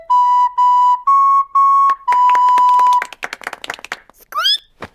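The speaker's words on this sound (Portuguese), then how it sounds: "Escutem, eu vou tocar uma flauta." A cartoon character plays a flute: four short sustained whistle-like notes and a longer held note, followed by quick clattering taps and a rising squeaky flourish, all loud and close with no talking.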